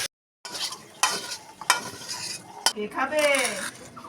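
A spoon stirring bottle gourd curry (lau shukto) with ghee and ground spices in a pan, scraping and clinking against metal in a few distinct strokes over a soft sizzle, close and alone.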